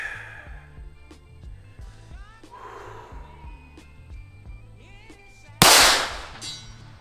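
A Laugo Alien pistol fires 124 grain Nautilus ammunition at a steel target 150 yards away outdoors. A single loud, sharp report bursts out after several seconds of quiet open-air ambience with faint chirps.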